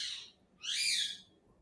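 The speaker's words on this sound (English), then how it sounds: "Yes, the bird." A bird calls outside in two high whistling bursts, the second longer and louder, standing alone against a quiet background.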